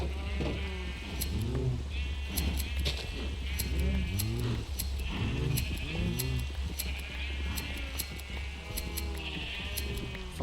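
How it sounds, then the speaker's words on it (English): Sheep in the Minecraft video game bleat repeatedly, several wavering calls overlapping at a moderate level, with light clicking game sounds scattered throughout. "I have to shear the sheep."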